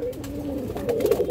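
Silver-necked pigeons coo in a loft, a low throaty rolling call that swells toward the end, close and fairly loud with no voices.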